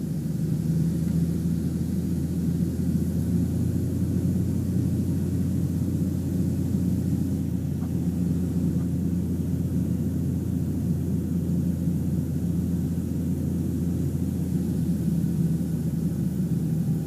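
A small airplane, registration N759UP, lands at Fullerton with a steady, close engine and wind rumble that holds even and unbroken throughout, with no talking.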